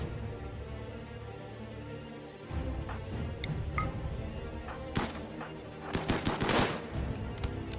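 Gunfire in the video game RimWorld, with bursts of rapid shots and single cracks that grow denser and louder toward the end over a constant low background.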